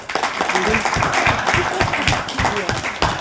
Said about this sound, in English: if you can just give a round of applause for Guy